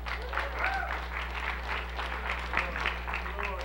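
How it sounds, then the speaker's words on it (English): Church congregation clapping and shouting in praise during a sermon, a steady wash of applause with voices calling out over a constant low hum. "Give the Lord a hand clap and a shout"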